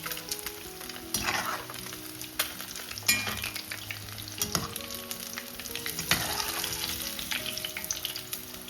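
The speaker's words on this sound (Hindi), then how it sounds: "बस ऐसे हिला हिला के फ्राई करते जाएंगे ताकि यूनिफॉर्मली फ्राई हो जाए सारे मोमोज।" Momos deep-frying in oil as the pan is shaken, a continuous close sizzle and bubbling with intermittent scraping and rattling bursts from the movement of the pan.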